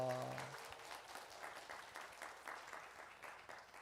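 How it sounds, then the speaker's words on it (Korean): A church congregation applauding the choir at a Sunday service: a brief held tone fades, then steady clapping from a crowd continues, soft and somewhat distant. "오늘 찬양한 성가대에 박수합니다."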